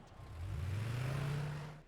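A car driving in the wrestling video game Smackdown vs. Raw 2008, heard as a steady engine drone that rises in pitch as it accelerates and then fades out, with no talk over it.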